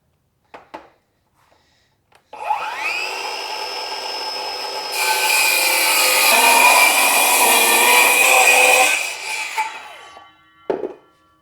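A power saw cuts wood for a DIY golf pressure balance board, spinning up with a rising whine, then a loud sustained cutting roar for several seconds before winding down, with a few knocks before and after.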